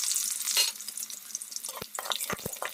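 Onions fry in hot mustard oil in a home kitchen pan, a steady hissing sizzle with bright crackle, broken late by a few sharp clinks and scrapes of stirring.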